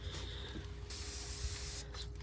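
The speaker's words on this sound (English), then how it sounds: "spray it with a little bit of alcohol" A spray bottle misting alcohol onto a paper towel, one steady hissing spray lasting about a second, close and clear against quiet background hum.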